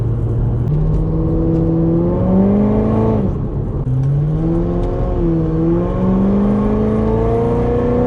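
A 700 HP supercharged Corvette pulling hard on a highway, heard from inside as a loud engine tone climbing through the revs, dipping briefly at a gear change, then rising steadily again.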